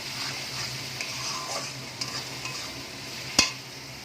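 Chicken kofta curry masala, seasoned with salt and sugar, stir-fried in a pan: a steady, close sizzle with soft scraping strokes and a sharp utensil clack near the end, no voices.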